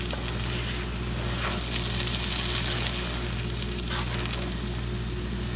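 Moong dal halwa mixture sizzles and fries steadily in a pan, a close, even crackling hiss with faint scraping stirs, no voices.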